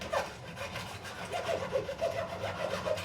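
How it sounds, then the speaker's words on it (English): A thin fret slot saw with a 0.5 mm blade cuts fret slots into a guitar fretboard during a refret on a Japanese-made Schecter, giving soft, quiet rasping strokes in a steady rhythm. "So I do have my fret slot saw. And it cuts to depth of that blade"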